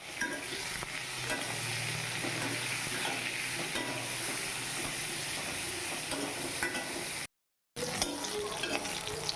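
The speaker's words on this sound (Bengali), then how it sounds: "তেল দিয়েছি প্রথমে বেগুনটাকে একটু ভেজে নেব একটু হলুদ দিয়ে বেগুনটাকে ভেজে নেব" Eggplant pieces with turmeric frying in hot oil, a dense, continuous crackling sizzle close by with occasional stirring scrapes, cut by a brief silent gap before the sizzle resumes.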